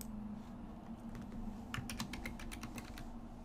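Typing on a computer keyboard: a brief run of about eight quick, soft key clicks in the second half over a low steady hum. The sound is quiet and close.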